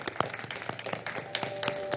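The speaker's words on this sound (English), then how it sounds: "A round of applause for the two gentlemen" Light, sparse clapping from a small audience greeting guests at a World Toilet Day event: a thin run of separate claps, fairly quiet and close.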